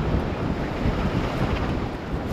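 Strong gusty storm wind roars against the microphone over the constant wash of rough water and waves at the Zeeland storm surge barrier, loud and unbroken.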